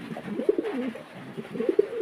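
Low, throaty cooing from a large pigeon of about 1.5 kg at a pigeon farm repeats in soft rolling bursts, close by, with no one speaking.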